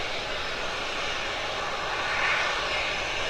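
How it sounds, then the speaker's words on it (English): Eagle 2 rocket engine on its second-stage static fire pad venting during chill-down or pressurization: a loud, steady broadband hiss that runs unbroken and swells slightly near the end, with no voices. "there's venting at the engine right now"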